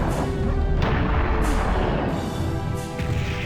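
Cannon fire in the video game Serious Sam: heavy, loud booms and crashing blasts roll over one another almost without a break, filling the whole stretch with dense, continuous battle noise.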